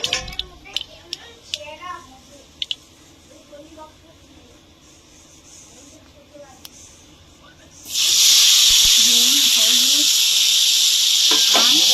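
Mustard seeds hit hot mustard oil while mango chutney cooks, bursting into a loud, sustained hissing sizzle that starts abruptly partway through, after a stretch of quiet kitchen sounds and brief talk.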